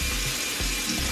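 Tap water runs steadily from a faucet to wet the head of a skin-cleansing brush, a continuous close splashing hiss with slight changes as the flow hits the bristles.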